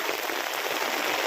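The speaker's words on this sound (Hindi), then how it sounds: "खूब बारिश हो रही है बहुत ज़्यादा" Heavy rain pours steadily during a bicycle trip through the mountains of Nepal, a dense, continuous hiss of drops drumming on surfaces, close and loud with no voices.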